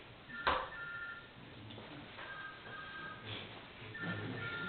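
A cell phone rings during a public hearing in a large room, its faint electronic tone repeating in short bursts behind room noise.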